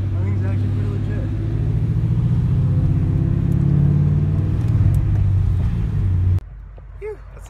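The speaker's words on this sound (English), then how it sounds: "Look at that boosted Civic" Turbocharged Honda Civic passing by with a loud, deep engine rumble that swells and then cuts off abruptly near the end, with people talking over it.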